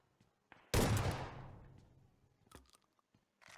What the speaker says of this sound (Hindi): पास में ही हो रही है एक और फायरिंग